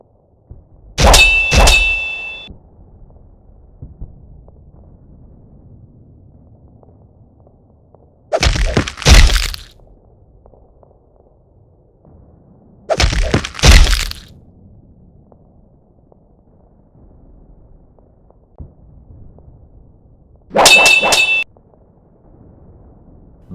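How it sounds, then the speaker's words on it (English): Chain axes and chainswords clash against ceramite armour in a stop-motion battle between Khorne berserkers and Blood Angels: four separate loud metallic clangs and crunches spaced several seconds apart, some with ringing tones, over a low ambient hum. "Chain axe and chainsword howled against Ceramite as blood was spilled for the blood god"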